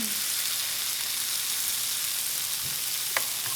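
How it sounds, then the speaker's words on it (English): Chipotle-seasoned steak sizzles on a hot grill pan, a steady loud hiss and crackle filling the scene close by, with a couple of faint clinks near the end and no talking. "And I'm gonna put this right on the grill pan. And this is gonna grill for about 5 minutes per side."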